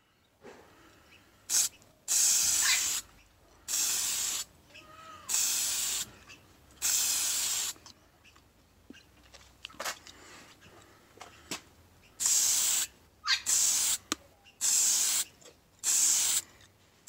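An aerosol can spray-paints a model locomotive tender in about ten short hissing bursts, each a second or so long, separated by quiet pauses with faint clicks and handling noises, close to the microphone.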